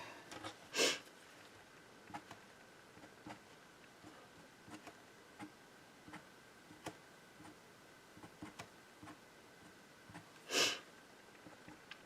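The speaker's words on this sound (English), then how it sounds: "Sorry about the sniffing." Two short, sharp sniffs about ten seconds apart stand out against a quiet room, with faint ticks and clicks in between.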